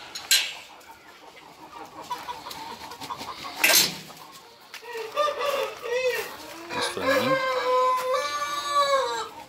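A hen clucks with her chicks at a poultry farm raising Cemani chickens, soft clucks and peeps mixed with other birds calling nearby, a louder burst near the start and high chirps later.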